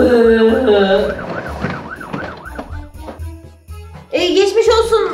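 Toy ambulance siren from a children's hospital playset, a loud electronic wailing that rises and falls in repeated sweeps, followed by a jingly chime burst near the end, with faint talk underneath.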